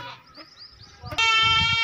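A goat, one of several sacrificial goats for sale, bleats loudly and close in a long harmonic cry near the end, after softer rustling and faint background sounds.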